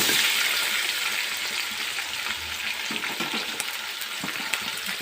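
Tomatoes frying in a pan for tomato chutney, a steady close sizzle with faint scraping and stirring, no voices.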